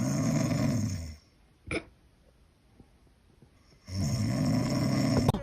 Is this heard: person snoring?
yes